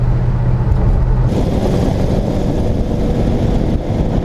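A 1965 Chevy Impala engine drones steadily while driving, a loud, continuous low rumble with a brief lower hum at the start and no voices.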